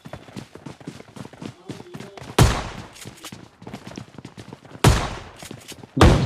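Shotgun blasts in a video game, three loud sharp booms spaced a few seconds apart, with rapid clicking and game noise between them.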